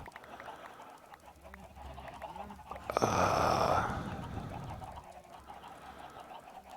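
Chickens cluck in the Minecraft game, version 1.17.1, with short honking, fowl-like calls over a busy game background and a louder burst in the middle, while a voice talks faintly.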